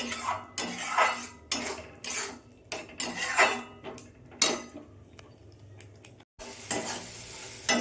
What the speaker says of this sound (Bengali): আমি অল্প একটু জল দেবো, জল দিয়ে মশলাটা আমি কষিয়ে নেব।